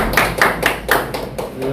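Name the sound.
audience clapping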